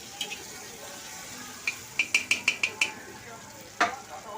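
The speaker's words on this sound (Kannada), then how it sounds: "ನೋಡ್ರಿ ಇವಾಗ ಈರುಳ್ಳಿ ಸೇರಿಸ್ಕೊತೀನಿ" A spoon scraping and tapping a pan, first a quick run of six even clinks, then one louder knock, over a low steady sizzle of food cooking.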